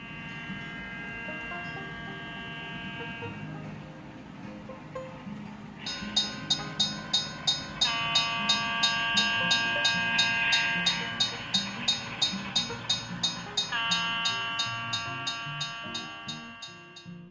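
A model railroad electronic crossing signal dings in a fast, steady rhythm over a low hum, after a quieter tonal opening; moderately loud and close.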